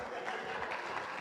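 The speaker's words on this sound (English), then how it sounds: "Please applaud for them." An audience claps steadily at a class reunion, a continuous spatter of applause from a room full of people, with a voice speaking faintly over it.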